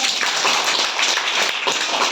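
A classroom of young students claps together after a simple science activity, producing a dense, continuous burst of hand claps with slight swells in rhythm, loud and close, with no talking.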